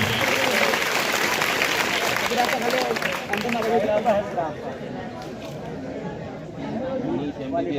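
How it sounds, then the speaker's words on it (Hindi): Students at a school assembly clapping loudly together, a continuous busy applause mixed with crowd chatter and voices throughout. "तालियां जोर से बजाओ बच्चों, जोर से।"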